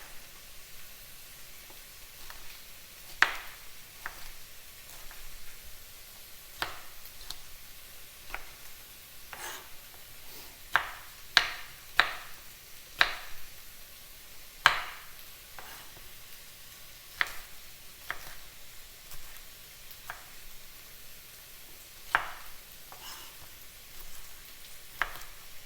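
A knife chops peppers on a cutting board for vegan pad thai, giving irregular, fairly faint knocks spaced a second or two apart against a quiet kitchen hush, with no speech.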